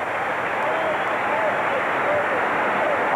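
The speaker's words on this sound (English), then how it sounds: "Standing ovation." A high school basketball crowd giving a standing ovation during a 1976 third-place game, a steady roar of clapping and cheering filling the gym, sustained and loud throughout with voices blended in.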